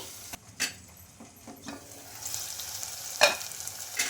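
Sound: tomato pieces frying in a pan

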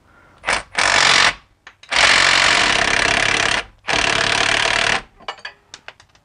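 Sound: power tool removing a differential nut on a BMW E46

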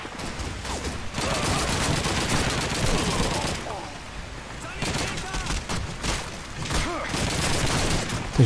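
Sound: gunfire in Call of Duty 2 video game

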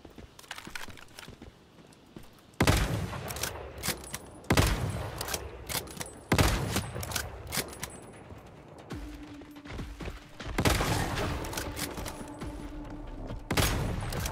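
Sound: sniper rifle gunfire in video game Once Human

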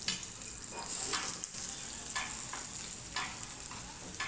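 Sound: eggplant pieces added to a hot pan and frying

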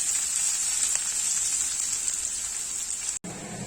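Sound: onion and potato frying in pan

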